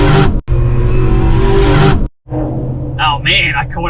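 A pickup truck cruises down the highway with a steady, loud low engine drone and road rumble from inside the cab, briefly cutting out twice, while voices chatter faintly near the end.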